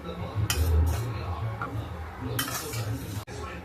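A spoon clinking and scraping against a bowl while vegetables are mixed into uthappam batter, with a few bright metallic knocks and soft stirring between them, heard close.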